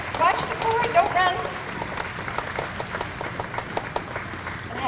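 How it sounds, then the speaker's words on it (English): An elementary school audience applauds a veteran at a Veterans Day assembly, a quick burst of many hands clapping with some voices and chatter in the room. "let's give him a big round of applause"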